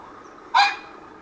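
A single short bark from dogs inside a house, heard once in the middle of an otherwise quiet room; no one speaks.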